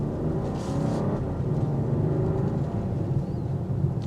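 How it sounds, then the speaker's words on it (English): A 2024 BMW X7 xDrive40 SUV engine hums low and steady from inside the moving vehicle, building gently while accelerating yet staying fairly quiet, with road rumble underneath. "you're going to hear the engine note coming in, but it stays pretty quiet"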